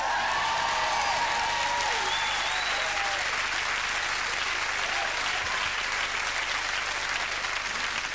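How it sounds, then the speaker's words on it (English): Studio audience on the live British TV variety show Saturday Live applauds steadily, a dense wash of clapping with a few whoops at the start, continuous and fairly loud throughout. "Round of applause for the guys, ladies and gentlemen."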